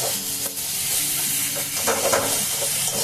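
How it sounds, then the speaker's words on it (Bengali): Food sizzles steadily in a pan while a spoon stirs and mixes it in continuous close scraping motions. "দেখুন, এখন এটাকে একটুখানি মিশিয়ে নেব"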